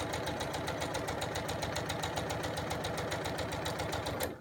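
A sewing machine stitches a quilt seam with a steady rapid mechanical chatter. The rhythmic whirring runs unbroken and close, then stops abruptly at the end.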